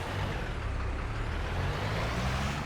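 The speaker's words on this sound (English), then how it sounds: "Okay, brakes." A heavy truck in Euro Truck Simulator 2 rumbles steadily with a broadband hiss of air brakes, close and continuous, with no voices present.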